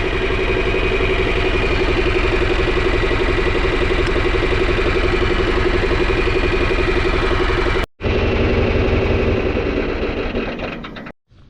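A loader tractor engine idles steadily with a loud, throbbing diesel chug close by, briefly cutting out near the end before dying away.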